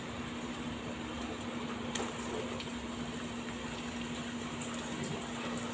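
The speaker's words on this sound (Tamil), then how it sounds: "இப்போ இது எண்ணெயில் போட்டு பொரிச்சு எடுத்துடலாங்க" Samosas deep-frying in hot oil, a constant close bubbling fizz at low volume with a faint steady hum underneath and no talking.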